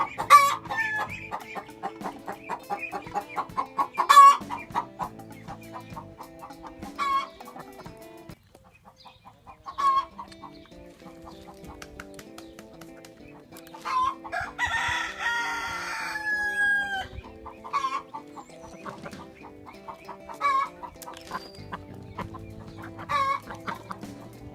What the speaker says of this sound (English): Here's Mama Hen.